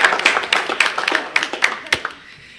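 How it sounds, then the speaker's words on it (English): A small group at a community meeting claps for a speaker, a short burst of sparse, uneven hand claps that thins out and stops after about two seconds. "a round of applause"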